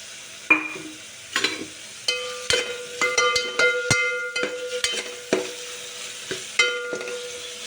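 Grated carrot stirred in a pan with ghee gives a series of scraping, clinking spoon strokes against metal with light sizzling, irregular and close, alone without speech.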